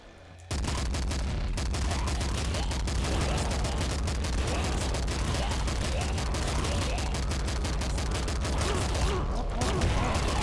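Rapid, dense video game gunfire from an assault rifle and grenade launcher in Nuclear Throne, a continuous loud barrage of sharp shots and bursts running almost the whole time.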